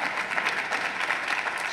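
Short burst of audience applause at a conference session, a dense, even wash of many hands clapping at moderate distance with no talk over it.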